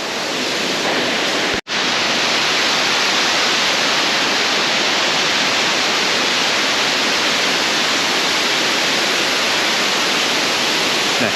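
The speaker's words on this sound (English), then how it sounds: "Trying to get the waterfall in the picture behind me." Hareshaw Linn waterfall in Northumberland pours in a steady, dense broadband roar, close and loud throughout, briefly cutting out once near the start before resuming unchanged.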